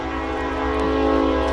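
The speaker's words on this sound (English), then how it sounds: "Now the train is coming in for you, which I heard last night was very loud." A train rolls by close and loud, its steady tonal rumble and ringing wheel noise filling the air without pause.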